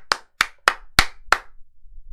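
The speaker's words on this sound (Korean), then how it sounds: "박수 치면서 화이팅 하죠" Five sharp hand claps ring out in a steady rhythm, loud and close, then stop, leaving quiet room tone with no talking.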